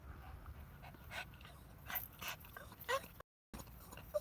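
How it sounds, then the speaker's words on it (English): A small stray puppy pants and whimpers close by, soft breathy bursts with a few faint high whines, fairly quiet against light background noise. "Little dog came out of nowhere."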